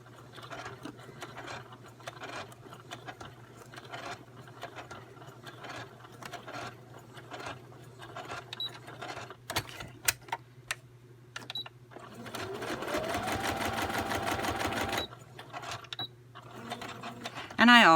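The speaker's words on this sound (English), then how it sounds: "I forgot to tilt my machine for this one. But it sure makes the sewing easier." A sewing machine stitches paper envelope pockets in rapid ticking bursts with clicking gear and ratchet mechanisms, building to a denser steady run near the end, while a person talks quietly throughout.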